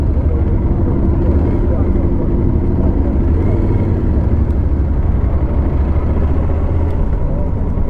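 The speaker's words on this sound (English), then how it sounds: "There's a lot of motorcycles." Many motorcycles riding together in a protest in Lisbon, making a dense continuous engine rumble that stays loud and steady throughout, with some talking mixed in.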